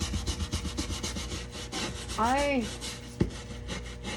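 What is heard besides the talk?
scrub brush scrubbing a Cricut cutting mat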